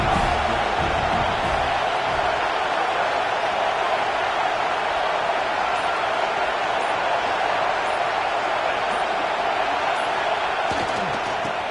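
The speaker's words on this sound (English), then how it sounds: "this crowd trying to help keep them there" A football stadium crowd roaring to back its defense while the opponent is pinned deep in its own end, a dense, continuous wall of cheering and noise holding steady throughout at high volume.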